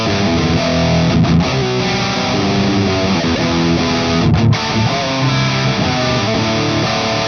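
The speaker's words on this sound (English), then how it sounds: "We have this vibey polka dot Firefly plugged into the MXR Distortion Plus pedal" Loud, continuous distorted electric guitar, a polka dot Firefly through an MXR Distortion Plus pedal, playing chords and riffs, thick and saturated, with no voices over it.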